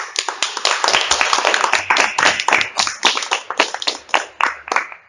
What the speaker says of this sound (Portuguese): E dê uma salva de palmas